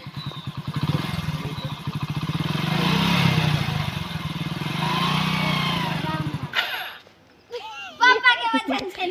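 A motorcycle ridden by a first-time rider gives off a steady, close engine drone with a buzzing pulse. It stops abruptly, and people talk afterwards.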